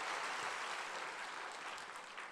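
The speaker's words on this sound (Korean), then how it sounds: "여러분, 다 하나님께 영광을 돌리는 박수를 귀하게 받으십시오." A church congregation applauds during a Sunday evening worship service, a steady wash of many hands clapping that fades slightly toward the end, heard from a distance.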